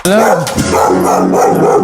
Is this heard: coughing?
no